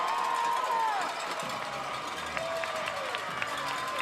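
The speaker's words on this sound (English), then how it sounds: "Home crowd is buzzing." Home crowd buzzing at a hockey game just after a game-tying goal, a steady murmur of many voices in the arena, with a few whistles and light claps over the crowd noise.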